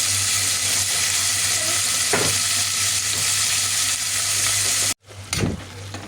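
Vegetables fry in a pan with a loud, constant sizzle and a stir or two. After a short break in the sound, a fresh burst of frying and scraping follows, with no voices.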